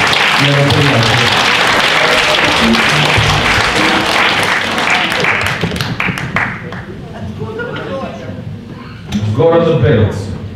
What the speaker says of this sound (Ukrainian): Я вас прошу еще аплодисменты вот для Романа